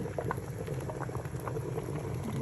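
Water simmering and bubbling in a pot while a Malagasy mokary godrogodro cake steams in its mould: faint, steady bubbling and gurgling with scattered small pops, continuous and close, no voices.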